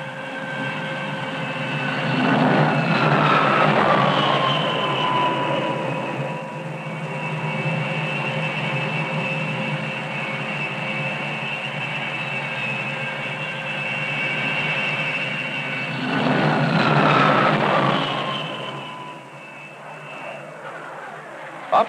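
Jet aircraft roar steadily aboard the aircraft carrier Enterprise, a loud continuous engine drone that swells twice as planes pass close, with whining turbine tones over the rumble.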